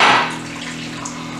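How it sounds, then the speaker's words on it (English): Boiling water is poured into chocolate cupcake batter, giving a brief gush of liquid that fades quickly into a steady low trickle and hum. "to this, we're going to add a little more than a cup of boiling water"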